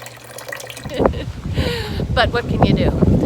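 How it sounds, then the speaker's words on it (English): A kitchen tap in a rental on Isla Mujeres runs at full blast but with a weak flow, giving a steady close rush of water beneath a voice speaking over it. "Except the kitchen tap doesn't really run much water. That's full blast."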